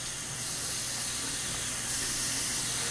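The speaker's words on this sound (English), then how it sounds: "I fill up my scuttle with steaming hot water" Steaming hot water runs into a shaving scuttle before a straight-razor shave, a steady close hiss and spray that stays constant and slightly louder toward the end, with no voices.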